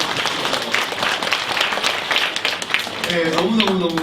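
Congregation applauding church teachers at a New Year's Eve worship service in a Korean church, a steady broad patter of many hands with voices mixed in throughout.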